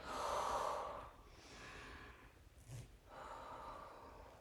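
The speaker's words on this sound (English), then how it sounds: "And you're breathing." Slow, close breaths during a Pilates pelvic floor exercise: a long audible inhale, a softer airy exhale, a brief sniff, then another drawn breath, quiet and intimate with no speech.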